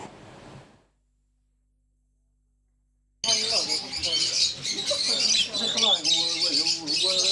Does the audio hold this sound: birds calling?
yes